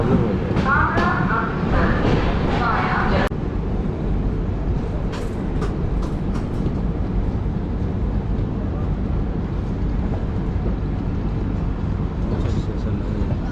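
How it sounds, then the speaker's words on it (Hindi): The Howrah Amritsar Mail pulling into platform 3 at Jagadhri, a loud, steady rumble of wheels and coaches heard from on board, with people talking over it at the start and a few brief squeaks later. "हमारी गाड़ी का अराइवल भी हो रहा है 3 नंबर प्लेटफॉर्म पे"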